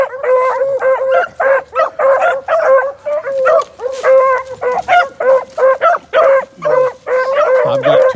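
A puppy barks and yips over and over in quick, close, loud bursts, mixed with whimpering and howl-like whines, with no talking.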